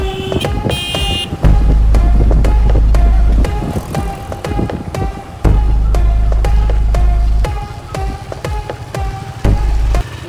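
A car drives along a road in Hampi, Karnataka, and pulls in to park, its low engine hum rising and falling while short horn toots sound repeatedly nearby; no one speaks.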